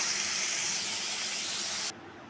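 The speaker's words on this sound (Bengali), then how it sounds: "মাছ ভাজার তেলের মধ্যেই একটুখানি পেঁয়াজও ভেজে তুলে নেব।" Onion fries in the oil left from frying fish, a close, steady sizzling hiss that cuts off sharply near the end.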